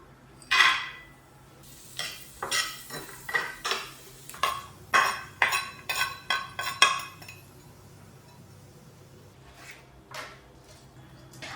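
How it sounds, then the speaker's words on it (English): Cashew nut halves roast in ghee, heard mostly as a series of sharp metallic clinks and scrapes of a spoon stirring in a pan. They come in irregular bursts over a faint low sizzle, then thin out toward the end. "Now I split open the cashew nuts into halves and roast them with ghee until they are crispy and golden in color."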